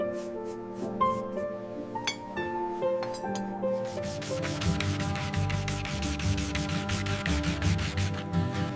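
A hand-carved wooden spoon being sanded smooth: a continuous scratchy rubbing, close and steady, with quick back-and-forth strokes, over faint tonal background music.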